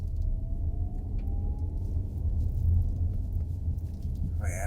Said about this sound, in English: Oh yeah, look at these bumps.